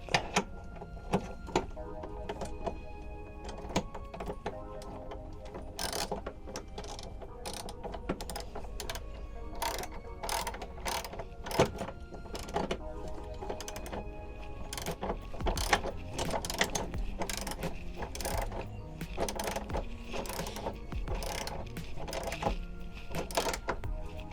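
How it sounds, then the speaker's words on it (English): A ratchet tightens the mounting bolts of an extended running board, giving rapid clicking bursts with a steady mechanical rhythm that carry on through the clip, close up, with faint voices underneath. "All right, we'll tighten that up."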